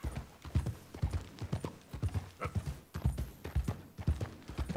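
Horse hooves clip-clop at a steady trotting rhythm in the video game Red Dead Redemption 2. The footfalls are close and continuous, with no talking over them.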